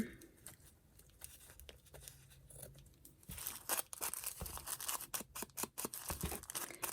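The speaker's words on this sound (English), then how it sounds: "Trim this up a little bit." Scissors trim deli paper close by, with soft crinkling handling at first, then a quick run of sharp snips and papery rustles.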